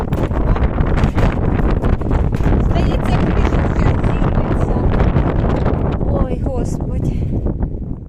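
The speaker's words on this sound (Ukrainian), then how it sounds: "продовжується такий шквальний вітер" Strong, gusty wind buffets the microphone with a continuous loud roar and rumble, and a voice speaks underneath.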